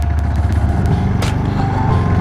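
A Kawasaki Vulcan S motorcycle engine runs steadily close by, a loud, continuous droning hum with a faintly whiny, vacuum-cleaner-like edge and no voices.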